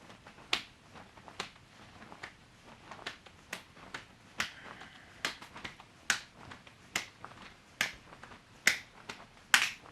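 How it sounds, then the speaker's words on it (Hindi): Sharp overhead hand claps during jumping jacks in a self-defence fitness training session, about twenty crisp claps in a steady rhythm, close and distinct with no talking. "इसके बाद हम दोनों पैरों को जंप के साथ खोलेंगे और हाथों से ऊपर की तरफ ताली बजाएंगे"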